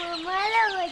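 A single close chicken clucks with a short, rising and falling call. No other sound stands out.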